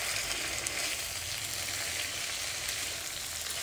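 Masala fries in a kadai with a continuous, even sizzle and faint crackle, close and fairly quiet, with no voices.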